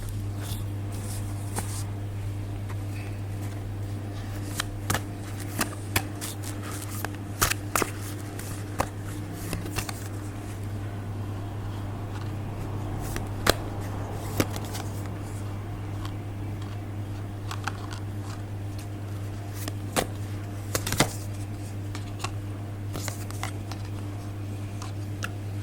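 Tarot cards are shuffled and handled close by, making soft, sporadic flicks and taps. The sounds are quiet against a steady low hum.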